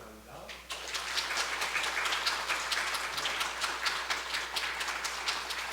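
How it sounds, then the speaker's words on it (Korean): A church congregation bursts into sustained applause during a Sunday service, many hands clapping in a dense, even roar that fills the hall after a brief quieter moment. "우리 함께 큰 박수로 축복하기 위해서"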